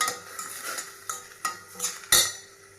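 Drumstick leaves sautéing with salt in a pan, a light sizzle broken by a series of sharp spatula scrapes and clinks against the metal, growing louder toward the end, with no talking.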